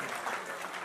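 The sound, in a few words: audience applause at an award ceremony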